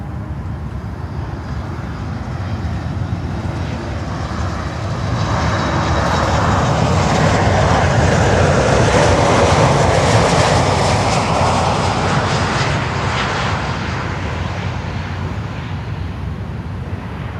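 A German Air Force aircraft departs Miami airport, a steady broadband jet roar that swells in the middle and stays loud throughout, without speech.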